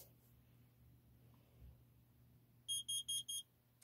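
A carbon monoxide alarm gives four loud, sharp, evenly spaced high-pitched beeps near the end, following a quiet stretch of room hum.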